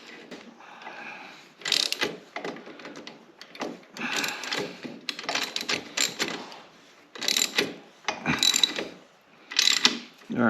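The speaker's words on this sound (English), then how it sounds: "take your socket set, take a wrench, and the bottom we can actually cinch up nice and tight" A socket wrench cinches the bottom shock bolt on a Honda Odyssey FL350, giving off repeated bursts of quick ratcheting clicks between short quiet gaps, moderately close; no speech.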